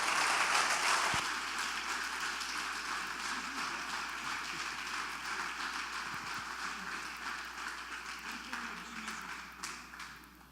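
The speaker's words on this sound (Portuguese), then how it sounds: "Vamos aplaudir o Senhor mais uma vez pela vida do Paulo" An audience at a church conference applauds, a soft, distant wash of clapping that starts louder and slowly fades away, with no talking over it.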